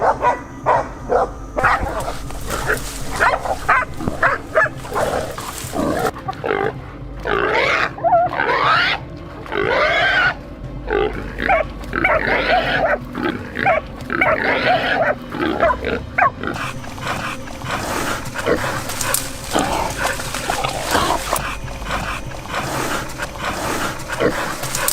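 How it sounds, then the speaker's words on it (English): A pack of hunting dogs chases wild hogs, with loud excited barking and yipping overlapping with pig squeals and grunts in bursts across the scene, close and chaotic, with occasional brief voices. "When dogs detect wild hogs, they chase and attempt to surround them."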